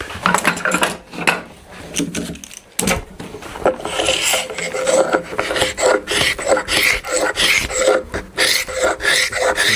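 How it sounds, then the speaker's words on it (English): A scraper works dried glue off a wooden end grain cutting board, giving loud, close, repeated rasping strokes with a brief pause early on. "the glue's dried, so we can declamp it and give it a good scrape"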